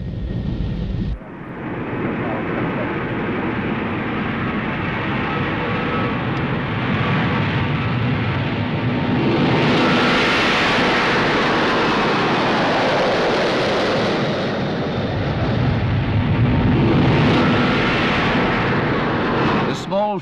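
A Concorde supersonic airliner flies past with a broad, loud jet roar that swells and fades, while a narrator speaks over it.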